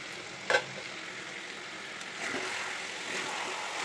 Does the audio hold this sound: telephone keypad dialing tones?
no